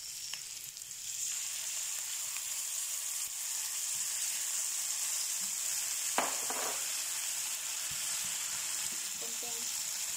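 Pork and chicken sizzle steadily in a hot pan for humba, a continuous broadband frying hiss with a few stirring clinks and scrapes partway through, close and moderately loud with no talking.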